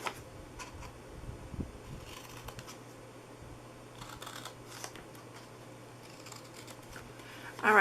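Scissors snip through paper box tops, a scattering of faint, close crisp cuts with small handling rustles in a quiet room.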